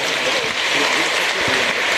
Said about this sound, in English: Please give her a big clap.